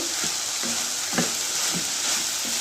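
Banana flower stir-fry with grated coconut being stirred in a pan, a soft steady sizzle broken by a handful of spoon scrapes and clacks spaced about half a second apart, close and fairly quiet with no talking.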